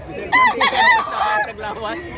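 A rooster crows in one long rising and falling call at a Cebu poultry stall where birds are sold, loud and close. Other fowl sounds and faint voices sit underneath.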